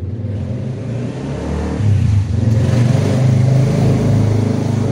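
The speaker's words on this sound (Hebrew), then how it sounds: "זה לא חייזר, זה אופנוע. כן, זה אופנוע, אנחנו ליד כביש פה." A motorcycle on a nearby road swells in volume as it passes, its engine drone rising in the second half.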